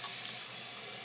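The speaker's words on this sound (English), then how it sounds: "I knew these dishes had to get done sometime." A kitchen tap runs steadily into a sink while dishes are being washed, a constant, even hiss of flowing water with no pauses and no voices.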